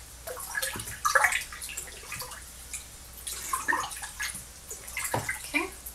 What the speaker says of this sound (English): we're going to go ahead and stir that up